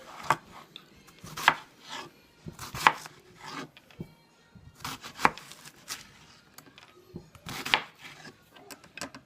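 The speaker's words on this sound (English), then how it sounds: "Cutting up the onion" A knife chops an onion on a cutting board for salsa: sharp, irregular thuds with softer slicing sounds between, close up and without any speech.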